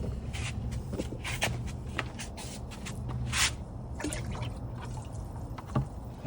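Bokashi compost liquid is poured and stirred into water for a fertilizer mix, giving splashy trickles, drips and sloshing bursts at close range with a few shuffling handling noises and no talking.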